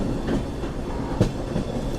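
Garib Rath SF Express train running on a double line, a steady loud rumble of carriages with rhythmic wheel clatter and a sharper clack near the middle, heard from on board with no talk.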